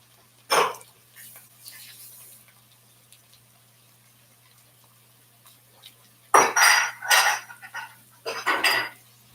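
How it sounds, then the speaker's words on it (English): Dishes, pots and pans clink and clatter at a kitchen sink while a ground beef pot pie is being cooked, with one sharp knock early on and a dense cluster of bright clanks near the end, fairly close and with no talk over them. "Sorry, dishes are piling up over here."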